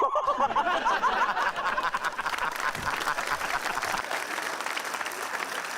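A group of people clap together in a dense, steady burst of applause that carries on through the whole stretch, with some laughter mixed in early on.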